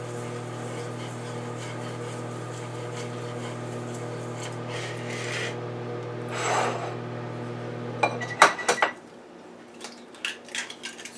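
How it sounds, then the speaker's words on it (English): Sugar and flour being mixed in a bowl, a soft rasping rub of the utensil over a steady background hum, followed by a few sharp clinks and taps against the bowl. "I'll mix up the sugar and the flour."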